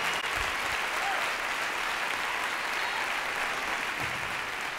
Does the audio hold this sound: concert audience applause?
yes